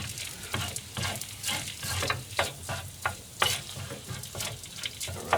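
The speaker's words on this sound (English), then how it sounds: "Just stirring that around, get all those lovely little sort of burning bits off the bottom." Korean-style bacon and egg fried rice being stirred in a frying pan in a small boat galley, steady sizzling under rhythmic scraping strokes of a utensil against the pan bottom, close and fairly soft.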